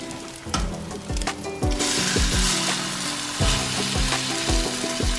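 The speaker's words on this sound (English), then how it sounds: "Let's start flipping our potato pancakes." Polish potato pancakes sizzling in a frying pan, with a loud continuous crackle and a series of sharp knocks and scrapes as a spatula works under them and flips them.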